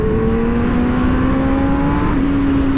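A Honda CBR 600 sport motorcycle on the street, its engine note climbing steadily as it accelerates, loud and close with a continuous whine and no pauses.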